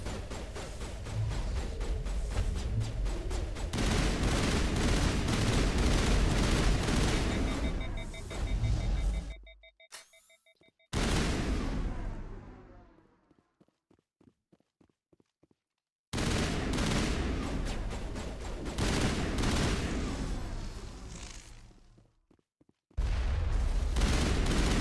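Heavy gunfire in a Mass Effect firefight, enemies shooting at the player in long dense bursts broken by sudden silences and a few isolated cracks, then another sustained volley. Loud and close throughout.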